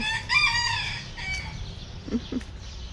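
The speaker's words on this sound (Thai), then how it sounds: "แม่ไก่พ่อไก่" Chickens in a backyard coop: a rooster crows once nearby, followed by soft, scattered hen clucks at a moderate level.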